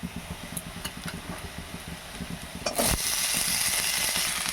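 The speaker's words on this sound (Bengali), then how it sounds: "এবার এর মধ্যে আমি আলুগুলো দিয়ে দেবো।" Potatoes drop into a pan of fried onions, and a steady hiss of frying swells after a sharp burst, settling into a continuous sizzle with faint clinks before it.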